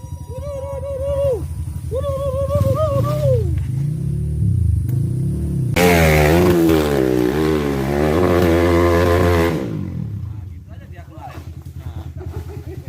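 A motorcycle engine idles and revs loudly up close during a rainy mountain ride, then cuts out near the end, leaving quieter sounds; voices talk over it.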